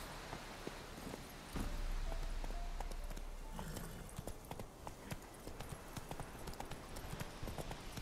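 Hooves of Roach, Geralt's horse in The Witcher 3: Wild Hunt, clip-clopping steadily at close range, a quiet rhythmic trot with no talk over it.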